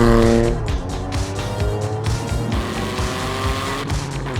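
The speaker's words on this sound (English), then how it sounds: "I could tell you about the insane all-wheel drive and engine swap in this car, or I could show you." An engine-swapped all-wheel-drive Toyota is driven hard, its engine roaring loud and close as the pitch rises and falls through gear changes, with tire squeal mixed in.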